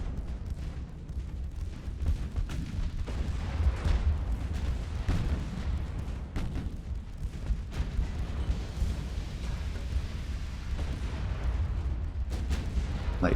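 Light cruiser ammunition detonation in the naval game Ultimate Admiral: Dreadnoughts, a rumbling roar of deep booms with sharp cracking blasts scattered through it, loud and continuous with no voices.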